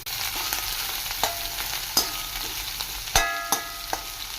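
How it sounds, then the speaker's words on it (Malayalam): Garlic and sliced onion sauté in a pan with a steady soft sizzle, broken by sharp scrapes and taps of a stirring utensil against the pan at irregular intervals. "2 മിനിറ്റ് നന്നായി വഴറ്റുക."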